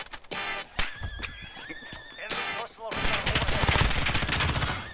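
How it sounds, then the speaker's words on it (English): Heavy gunfire in the Modern Warfare beta shooter game, with rapid automatic bursts and sharp shots, loud and close, building into dense sustained firing toward the end, with music-like tones and a voice briefly behind it. "I'm getting shot from the right."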